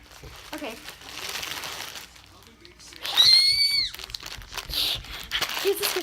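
Plastic packaging around squishy toys crinkles and rustles as it is opened, with a sharp burst of crinkling midway and a voice speaking now and then.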